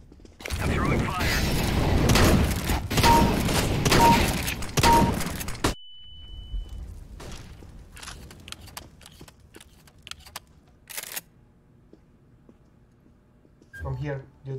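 Rapid automatic gunfire in the CS:GO shooter, a loud close burst of overlapping shots lasting several seconds, then sporadic clicks, single reports and faint game noise.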